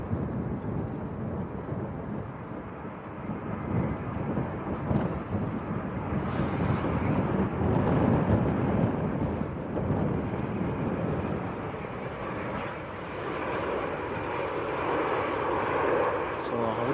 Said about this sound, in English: This is a 788, one of the smaller versions of the Dreamliner.